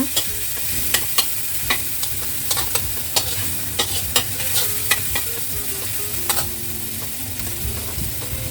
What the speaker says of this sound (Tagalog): Saute natin yung garlic hanggang sa maging brown siya.